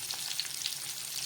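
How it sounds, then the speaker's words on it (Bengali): Rohu fish pieces fry in hot oil with green chillies, giving a faint, even sizzle with soft crackling pops that continues without pause. "লঙ্কা দিয়ে মাছটাকে ভাজা করব"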